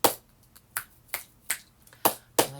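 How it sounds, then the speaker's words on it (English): Six sharp finger snaps or clap-snaps spaced about half a second apart, close and crisp over a quiet room, done during a gentle floor stretching session. "I like to do these clap snaps just to check in with my nervous system."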